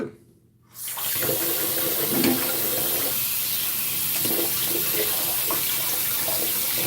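A tap runs steadily while a shaving brush is rinsed under it, a brief quiet moment giving way to a continuous close splashing stream with small fluctuations as the brush moves through the water.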